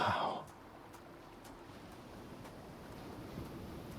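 Wind blows high up in a video game, a soft airy rush that stays steady and faint after a brief louder swell at the start.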